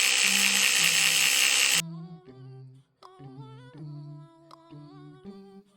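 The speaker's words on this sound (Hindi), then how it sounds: "Blender, blender." A harsh, high-pitched whirring of a blender runs loudly for nearly two seconds, stops suddenly, and someone talks afterward.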